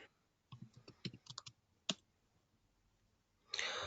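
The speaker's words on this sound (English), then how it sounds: "I'm typing it now." Bursts of clicky computer-keyboard typing, a quick cluster of keystrokes followed by a single tap and a pause, then a louder rustle at the end; quiet and close, with no talking.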